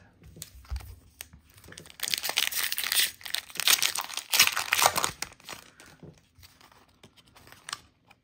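A Pokémon 151 card pack wrapper crinkles and tears close up, loud bursts of crackly plastic rustling in the middle, quieter handling before and after.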